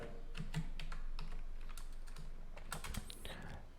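Quiet, steady clatter of keys as CSS code is typed on a computer keyboard, rapid irregular clicks close by, with no talking.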